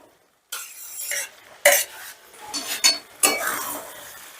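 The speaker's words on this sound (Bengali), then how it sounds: "এবারে দিয়ে দিচ্ছি ভেজে রাখা বেগুন" Fried eggplant tipped into a pan of spice mixture for an egg and eggplant curry, heard as a few close clattering knocks and scrapes of a utensil against the pan, with no talking.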